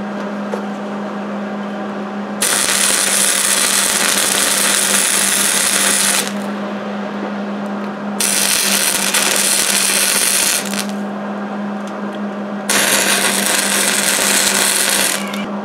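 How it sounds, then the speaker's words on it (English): Welding the handle onto a thin rebar billet gives a loud, steady buzzing hiss that comes in three long bursts. A constant low hum runs beneath them and through the gaps between. "I'm just going to weld the handle on, and as I go all the way around the handle, it'll weld that backside up."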